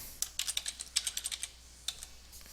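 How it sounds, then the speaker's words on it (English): Typing on a computer keyboard nearby, a quick burst of crisp key clicks followed by a short pause and a few more taps. "So I'm going to go ahead and type that in."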